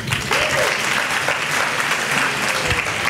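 Dense, steady applause from an audience at a Hee Haw-style country music show on a Saturday night, filling the room evenly with a few brief voices faintly beneath.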